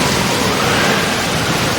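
Flash floodwater surges at the main gate of Madhutila Eco Park in Nalitabari after an hour of heavy rain, a loud, steady, close rush of water with no other sound.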